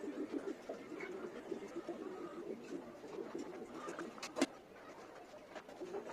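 Pigeons coo softly in a fish-keeping area under a tin shed, making a quiet, repeated low warbling with one brief louder knock near the end.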